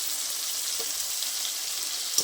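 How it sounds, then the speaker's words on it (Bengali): Tomatoes frying in a pan with onion, salt and turmeric give a steady, even sizzle, close and moderately loud, with a small clink near the end. "ভালো করে টমেটোটা একটু ভেজে নেব"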